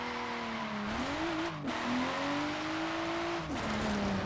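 A lightweight Lotus drag car in the racing video game Forza Horizon 4 drones with a smooth, soft engine note that rises steadily through the revs, dips briefly at a gear change, climbs again and drops at the next shift.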